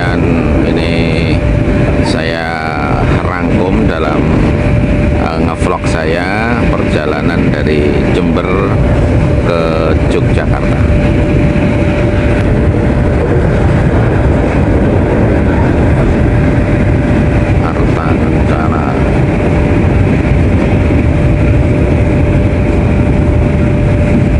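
Interior of the Ranggajati executive train travelling from Jember to Yogyakarta, a loud continuous rumble of wheels and carriage noise with a steady hum, rattling bursts early on, and a voice speaking intermittently over it.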